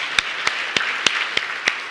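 A church congregation claps during a Sunday worship service, heard as a few distinct, evenly spaced sharp claps rather than a full burst of applause, moderately loud and close, with no talking.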